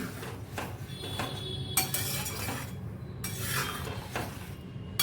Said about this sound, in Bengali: দিয়ে তেলটাকে হালকা করে একটু মিশিয়ে দিতে হবে